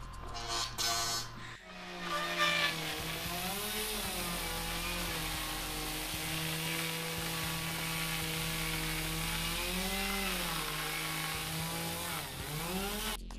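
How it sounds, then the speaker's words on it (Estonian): A power saw runs loudly and steadily for several seconds, cutting a window opening in a house wall, its pitch dipping and rising as it bites through material, with a brief start-up at the beginning. "Annad Toivole sae kätte ja õige mõõdu ja aknaauk ongi valmis."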